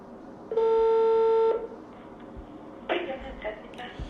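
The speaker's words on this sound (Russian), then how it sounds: "Ну а потом мы просто взяли и позвонили в приемную Костина" A telephone call is placed to an office reception line: one steady dialing tone lasts about a second, followed by quieter clicks and line noise with faint voices in the background.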